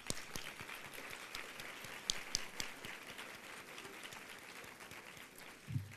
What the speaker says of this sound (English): And a round of applause for Kelly.